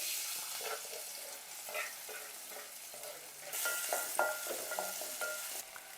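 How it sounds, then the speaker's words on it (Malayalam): Chopped onions dropped into hot coconut oil in a pan hiss and sizzle steadily while being stirred, with clinks of the utensil and a louder burst of frying partway through, and no talk. "കട്ട് ചെയ്ത് വെച്ച സവാള ഇതിലേക്ക് ഇട്ട് കൊടുക്കാം"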